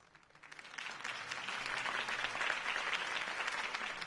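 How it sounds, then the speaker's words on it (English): Crowd applause in a Batman video game, starting quietly and building within half a second into a dense, sustained roar of clapping from many hands, heard alone without talk. "If only Mr. Wayne, my campaign's largest backer, could have heard that applause"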